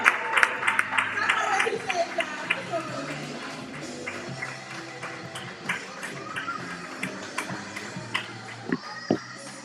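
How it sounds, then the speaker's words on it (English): An open mic audience at a spoken-word event claps and cheers to welcome the next performer, steady applause from a crowd filling the room with scattered whoops, heard fairly close. "Snap it up, clap it up, and give it up for the one and only."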